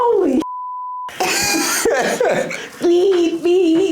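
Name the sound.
censor bleep over swearing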